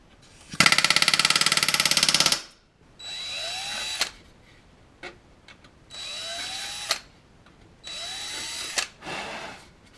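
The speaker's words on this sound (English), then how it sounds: "You can almost hear the difference when the rivet is set." A rivet gun sets rivets on an RV-7 aircraft elevator skeleton, first in one long rapid hammering burst, then in several shorter bursts separated by pauses, close and loud with no talk.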